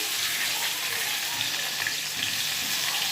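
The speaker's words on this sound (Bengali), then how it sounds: "আলুটা ভাজছি" Potatoes frying in a pan give off a steady, close sizzle of hot oil that holds even all through, with faint crackles and nothing else over it.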